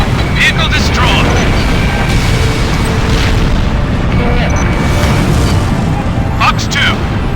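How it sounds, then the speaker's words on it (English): Destroyed vehicle exploding in the aerial combat game Ace Combat Infinity, a dense rumbling boom that fills the whole stretch amid continuous jet and battle noise, with radio voices chattering over it. "Vehicle destroyed."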